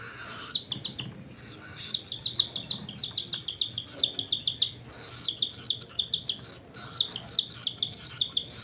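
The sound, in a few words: pet bird chirping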